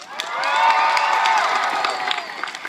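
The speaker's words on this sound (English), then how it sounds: "it is your sworn duty and obligation to erupt into wild and joyful cheers and applause" A 2013 graduating class erupts into loud cheering, whooping and clapping at a commencement ceremony, a dense, sustained crowd roar with shouts on top.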